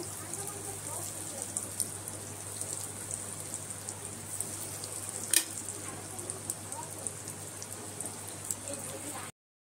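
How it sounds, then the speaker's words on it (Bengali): Chicken fingers fry in a pan of oil with a steady, quiet crackle and hiss, a continuous soft sizzle with one brief louder pop midway, then a sudden cut to silence. "এগুলো সব একইভাবে ভেজে নেব"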